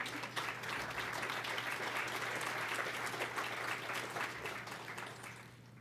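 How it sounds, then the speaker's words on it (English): Audience at a State of the City address breaks into sustained applause, a thick, even roar of many hands clapping that eases off toward the close, with a low steady hum underneath. "Clap a little more"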